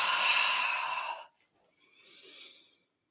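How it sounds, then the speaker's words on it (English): A long, soft breath out during a guided breathing exercise, broad airy hiss for about a second, then a quieter second exhale trailing off into silence. "Exhale out."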